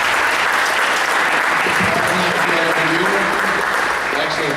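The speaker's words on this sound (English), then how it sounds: "So a round of applause for all everyone who" Loud, continuous round of applause at a Belleville board of education meeting for families who raised money on an autism walk, clapping held steady throughout with voices carrying over it.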